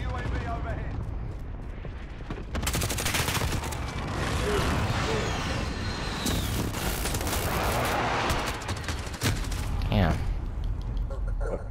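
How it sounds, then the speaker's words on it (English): Rapid chain of heavy explosions from a cluster strike mixed with bursts of gunfire in a first-person shooter, loud, dense and continuous, with a voice talking over the barrage. "Allied cluster strike inbound."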